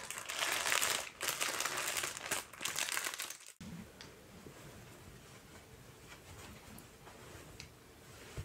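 Packaging for a Nepalese meditation shawl is crinkled and torn open, loud and close for about three seconds, then drops to softer, sparse rustling.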